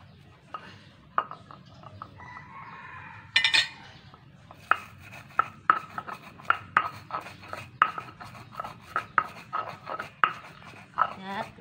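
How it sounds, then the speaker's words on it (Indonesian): Roasted coriander and cumin are ground in a stone mortar (ulek) in a home kitchen: a few scraping rubs, then a steady run of sharp, regular pounding taps, close and fairly quiet. "Yang ini ada ketumbar sama jinten udah Mama sangrai. Mama mau ulek."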